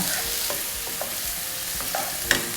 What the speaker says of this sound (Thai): เราผัดผักให้ เข้ากันดีก่อน